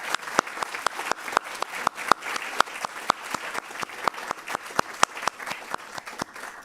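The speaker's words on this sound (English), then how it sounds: "Can we give them a round of applause for their good work?" A crowd at a spring 2023 student awards ceremony applauds with sharp, evenly spaced claps that stand out in a steady rhythm over a softer wash of hands, with no talking.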